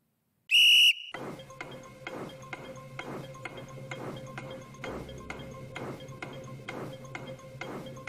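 A single sharp, shrill guard's whistle sound effect rings out briefly near the start, followed by steady rhythmic clattering and clunking of a Hornby TT120 model LNER Flying Scotsman locomotive getting under way.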